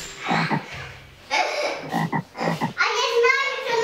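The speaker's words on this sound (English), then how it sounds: "It's a frog." A frog croaks in loud, close bursts, a few separated calls followed by a longer rasping run, set within a children's song.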